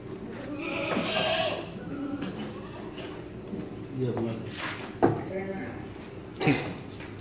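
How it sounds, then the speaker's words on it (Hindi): Nasal Hyderabadi female goats for sale on a farm bleat in short calls amid steady nearby conversation, with a couple of sharper animal cries near the end. "वो भी बकरी है।"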